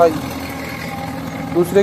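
A tractor pulling a rotavator runs in second gear high across a field, its engine a steady close drone with a low rumble throughout.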